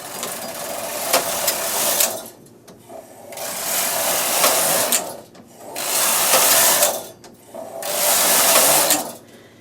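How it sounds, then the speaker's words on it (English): Knitting machine with ribber working a 1x1 rib stitch, loud rhythmic carriage passes in back-and-forth sweeps, each a few seconds long, separated by brief quieter clunks. "So now it's going to do the zigzag, the rib, 1 by 1 rib stitch."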